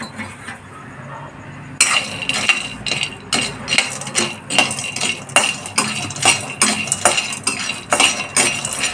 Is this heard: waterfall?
no